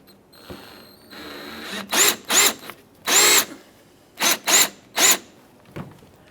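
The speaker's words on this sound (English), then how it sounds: "just go ahead and drill out the center and remove the outer portion as well" A power drill drills out a plastic rivet on a Jeep Grand Cherokee headlight assembly, whirring in six short bursts, loud and near, with brief pauses between and a faint hum underneath.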